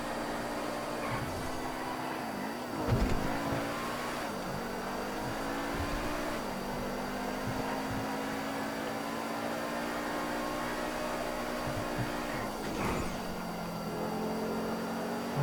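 A car racing in the video game GTA FiveM, its engine holding a steady droning hum with a few pitch swells as it shifts and corners, no talk.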